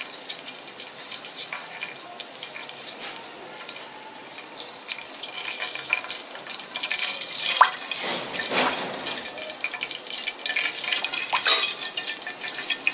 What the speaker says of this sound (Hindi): अब इसमें मैं ये कड़ी पत्ता, दालचीनी, इलायची, काली मिर्चें, छोटी इलायची ये डालूंगी